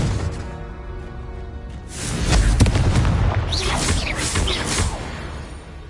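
A Confringo spell blast from the video game Hogwarts Legacy erupts as a loud, deep boom with a rushing, crackling tail lasting a few seconds, followed by lighter whooshing bursts.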